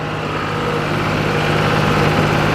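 A tractor engine runs steadily at a constant low throttle while pulling a 7-foot Armstrong disc to drag dirt into ruts, a loud, continuous rumble with no talk over it.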